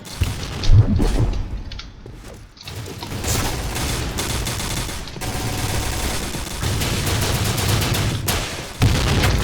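Gunfire in the online shooter Point Blank on a warship stage: near-continuous automatic shooting, loud and close, with a short lull before steady bursts resume and carry on.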